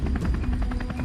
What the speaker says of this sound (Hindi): सुरेश अपने हेलीकॉप्टर में चक्कर लगाता हुआ उस टापू के पास पहुंचता है